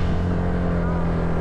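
A steady low motor engine drone runs throughout, idling or cruising nearby with constant loudness, on Mt. Sibonga in the Philippines.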